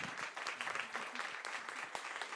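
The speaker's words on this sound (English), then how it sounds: "Please give them a round of applause." Audience applause closing a sustainable tourism events panel, a steady wash of many hands clapping at moderate level for a couple of seconds, with a few sharper individual claps standing out.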